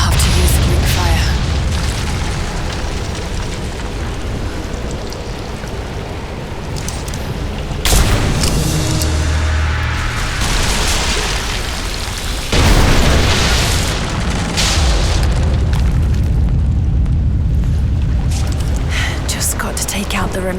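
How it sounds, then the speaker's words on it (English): Greek fire bomb blasts in Rise of the Tomb Raider, with deep booming explosions and crumbling debris breaking out twice over a rumbling, noisy backdrop. "Looks like I'll have to use the Greek fire."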